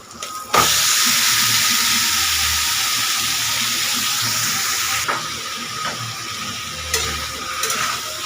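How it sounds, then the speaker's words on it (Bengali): Marinated meat drops into a pan of well-cooked spice masala with a sudden loud burst of sizzling that settles into a steady hiss, broken by a few scraping stirs near the end. "এবার আমি ম্যারিনেট করা মাংসটা দিয়ে দেবো"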